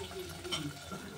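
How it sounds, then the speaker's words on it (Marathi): Running water rinses out a mixer jar at a kitchen sink while spinach curry is being made, a steady close splashing and gurgling that fills the brief moment with no talking. "तर मिक्सरचं भांडं धुवून टाकत आहे."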